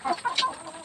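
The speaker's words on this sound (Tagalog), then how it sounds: "Kung may nag-aaway mga manok nag-aaway sila." Chickens squabble in a bamboo coop, letting out a few short, close clucks and squawks in quick succession.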